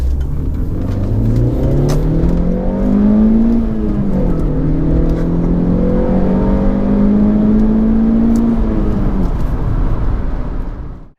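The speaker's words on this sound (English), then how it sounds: "go out and drive it, give it a good pasting" A VW Lupo GTI engine revs hard and pulls up through the gears, its loud droning rising and falling steadily, with no voices.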